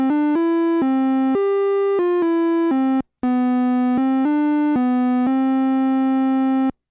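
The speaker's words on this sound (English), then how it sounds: "There's also a second melody synth that sounds like this." Second melody synth of an OM-84 chord machine playing a simple stepwise tune of sustained, buzzy single notes with one brief gap partway, loud, clean and solo.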